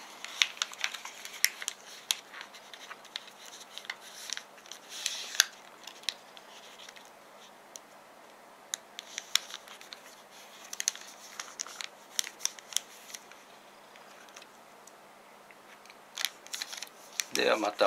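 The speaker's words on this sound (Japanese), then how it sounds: "ここの角がここの角に来るように折り紙を折りたたんでいきます" Origami paper is folded by hand for a winged bowl, giving scattered crisp creasing clicks and soft rustles close up in a quiet room, with a louder crinkle at the very end.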